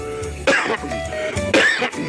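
Two harsh coughs or throat-clearing bursts, close and loud, separated by about a second, with a low background hum.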